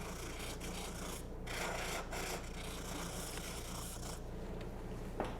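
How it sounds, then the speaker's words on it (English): A wire wheel scrubs excess meat off a pheasant wing during taxidermy fleshing, giving a steady close rasping and rubbing that runs continuously without pause. "You could scissor this off as well, but we're just going to use the wire wheel."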